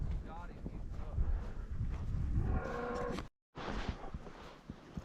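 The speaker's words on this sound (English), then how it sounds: "This bunch of cows likes to be outside." Cattle out in a rodear bellow with low, drawn-out moos amid rustling and movement, near and fairly loud, with a voice heard among the animal sounds.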